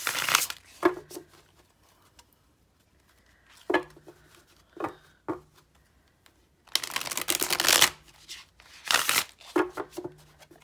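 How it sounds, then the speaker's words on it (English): A thick, glossy cardstock tarot deck is shuffled overhand in short bursts of papery riffling and soft slaps, quiet and close, separated by near-silent gaps. "It shuffles really easily this way because it's glossy cardstock"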